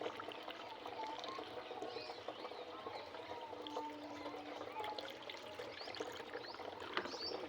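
Aloe vera and neem leaf decoction for natural farming drips and trickles steadily while being strained, a faint continuous watery patter with birds faint in the background.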